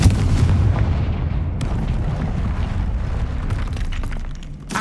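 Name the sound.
Confringo blasting curse explosions in Hogwarts Legacy video game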